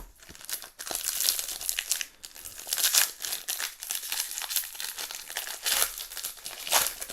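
Magic: The Gathering Hobbit booster pack foil being torn open and crinkled by hand, a steady run of close, crisp crackling and ripping that carries on for several seconds with short pauses, no talking.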